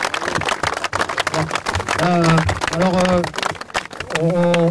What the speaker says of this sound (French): moi je souhaite quand même qu'on applaudisse François Hollande qui est venu nous rencontrer